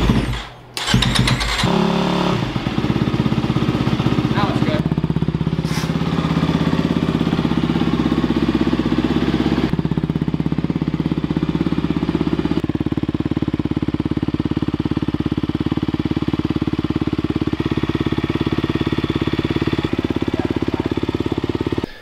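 A new 2020 Honda CRF250R motocross bike fires up on its first start, with a few sharp opening blips and then a steady, loud, close engine note that runs alone without pause.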